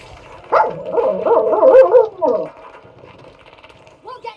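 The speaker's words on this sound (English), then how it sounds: "Yes, that is Lucia barking at Damien sitting on the edge of my bed here." A dog barks and whines in a rapid, close, fairly loud burst of yips and barks indoors beside a bed, trailing off into quieter whimpers and a short final bark.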